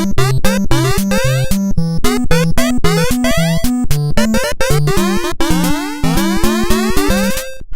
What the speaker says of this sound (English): the main menu music is normally supposed to sound like this